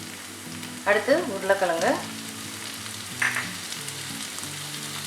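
Carrots and other vegetables fry in ghee for a tomato rava bath, a steady sizzle with a burst of stirring and scraping near the start. A voice speaks briefly.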